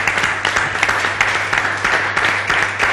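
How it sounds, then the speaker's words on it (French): An audience applauds, many hands clapping in a lively, uneven patter with distinct individual claps standing out, fairly close and loud, over a low steady hum. "Merci de pouvoir l'applaudir quand même."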